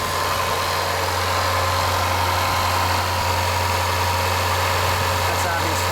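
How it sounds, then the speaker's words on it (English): A Jaguar F-Type SVR engine holds a high-rev idle, a steady loud droning hum with a low rumble that stays constant throughout, close by. "That's obviously the high rev idle."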